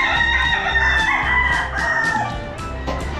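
Roosters crow and chickens cluck loudly and close at a farm or poultry yard, calls overlapping and continuous throughout with several birds sounding at once.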